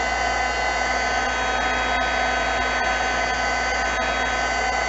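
A heat tool blows hard and steadily, a continuous loud hot-air roar with no pauses, while melting clear embossing powder over black ink.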